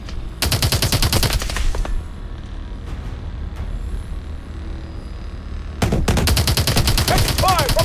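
Rapid automatic gunfire from the Call of Duty: Advanced Warfare video game, loud bursts at the start and again near the end with quieter combat noise between.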